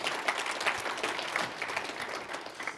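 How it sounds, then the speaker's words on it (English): A conference audience at a government technology event gives a round of applause, a moderately loud, continuous patter of many hands clapping throughout. "please give her a round of applause"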